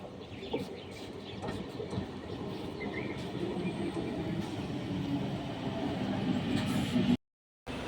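A train pulls into a station, a continuous low rumble of rolling wagons with faint bird and chicken sounds in the background and a brief break in the sound near the end.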